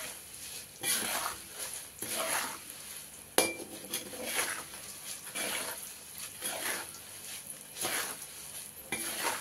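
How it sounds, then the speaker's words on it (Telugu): Curry leaves and spices frying in oil while being stirred in a pan for lemon rice, a steady sizzle under repeated scraping sweeps of a spoon, close and fairly loud with a sharp knock partway through. "బాగా కలపాలండి, నిదానం కలుపుకోవాలి మాడకుండా."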